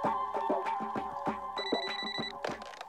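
A telephone ringtone rings in a repeating electronic melody, loud and steady, with a brighter high tone briefly joining partway through; no voices.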